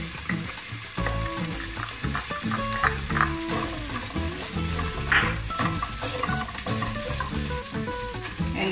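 Corned beef sautés with pepper and salt in a pan, giving a steady sizzle with stirring scrapes, while music plays over it.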